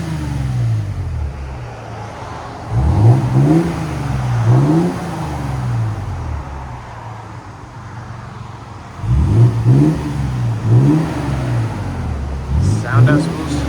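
Repeated revs from a 2022 Toyota Tundra 3.4L twin-turbo V6 with a Borla ProXS exhaust, heard from inside the cab as two clusters of rising and falling blips over a steady idle rumble.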